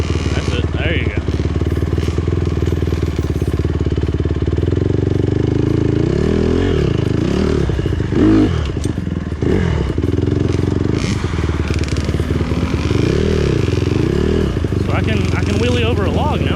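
An off-road motorcycle revs and rides over a log, its engine rising and falling in uneven bursts with clattering and scraping, close and loud, while a rider talks over it.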